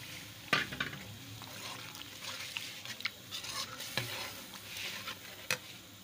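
Tomato paste hits hot oil that already holds fried garlic, ginger and onion. A soft sizzle runs underneath as a spoon scrapes and taps the pan in scattered, uneven strokes, with no talking.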